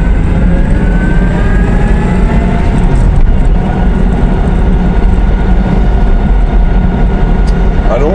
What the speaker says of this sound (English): we're going around this roundabout, and the car's now shaking.